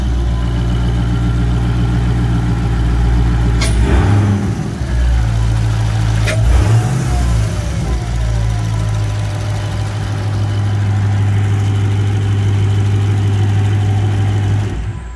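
A 2019 Dodge Charger Hellcat with a carb-legal exhaust and intake cranks to life up close, blips through two sharp revs, then settles into a loud, steady, rumbling idle with no talking.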